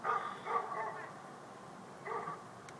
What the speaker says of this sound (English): And we have happy dogs, yes.